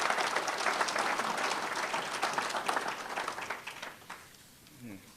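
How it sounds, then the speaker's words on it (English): An audience at a public meeting on carbon pipeline safety claps in a full round of applause that slowly thins and fades, and a voice begins near the end. "Give him a round of applause, please."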